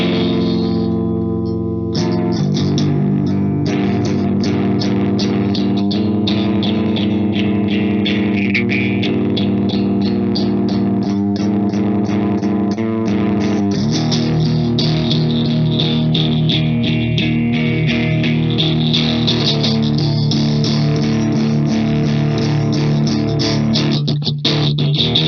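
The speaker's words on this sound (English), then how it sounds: "this is what it sounds like with the distortion off, so just the phaser and the Dark Terror." An electric guitar through a Belcat phaser pedal into an Orange Dark Terror amp with the distortion off: clean, swirling, sustained chords played continuously and loudly, the sweep rising and falling without a break.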